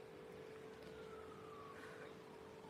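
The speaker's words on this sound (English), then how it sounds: "I hear another police car coming" A police car siren sounds in the distance, a faint wailing tone that sweeps slowly and persists under a steady background hum, with no talking.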